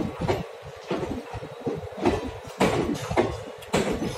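Howrah–Amritsar Mail train of ICF coaches behind a WDG4D locomotive rolling past, with repeated rhythmic clattering bursts of wheels over rail joints, fairly close and steady.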